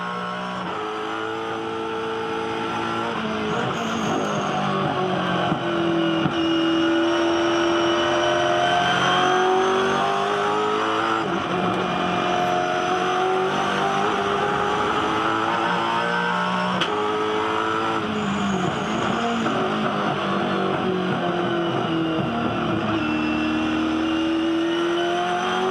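Onboard a 2012 V8 Supercar racing around the Perth circuit, the engine roaring loud and close as it revs up and down through gear changes, with brief tyre noise and no talk.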